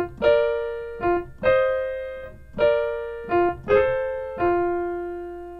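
Jazz piano blues lick transposed to F, heard alone as a series of separate struck chords and double notes in an uneven rhythm, each ringing and decaying before the next.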